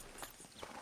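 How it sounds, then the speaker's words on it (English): Horse hooves clip-clop in Red Dead Redemption 2, a couple of soft, muffled hoofbeats in quick succession over a busy in-game ambience, brief and moderately close. "But I do kind of like this horse."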